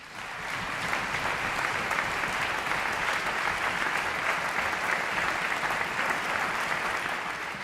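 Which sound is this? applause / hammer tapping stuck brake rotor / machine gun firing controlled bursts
applause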